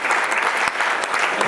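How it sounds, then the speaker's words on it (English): Dense applause from a crowd at a Visit Nepal Europe 2017 event in Dublin, steady clapping throughout, close and lively. "they all deserve a round of applause for how well they turned out"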